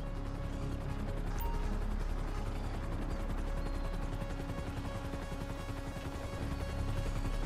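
A helicopter hovers in GTA 5 Online during a rappel exit on the Cayo Perico heist, with a steady, fairly quiet rotor and engine drone throughout and faint mechanical clatter underneath.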